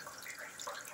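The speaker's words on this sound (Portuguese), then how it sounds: "Mas tá correndo água na biqueira aqui, ó." Rainwater runs from a roof gutter spout during light rain, a steady soft splashing trickle, faint and continuous with no voices.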